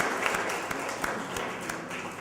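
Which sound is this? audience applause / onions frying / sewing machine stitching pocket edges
audience applause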